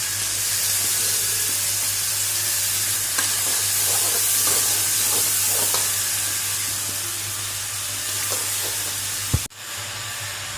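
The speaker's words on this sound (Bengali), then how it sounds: "পেঁয়াজটা আমি ভেজে নিচ্ছি।" Onion frying in a pan for chowmein, a loud, continuous sizzle and hiss with faint stirring scrapes, ending abruptly near the close.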